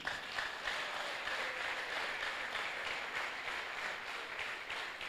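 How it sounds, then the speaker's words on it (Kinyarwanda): A church congregation applauds during an Easter sermon, producing a continuous wash of clapping that stays dense and even at moderate loudness for about five seconds, with no voice on top. "Mumukomera amashyi."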